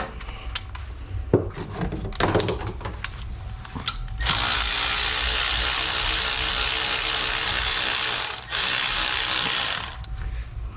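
A ratchet works loose a 15 mm nut on the power steering pump of a 2008 GMC Yukon 5.3L, giving quiet scattered clicks at first and then a sustained, close run of fast ratcheting that pauses briefly before ending.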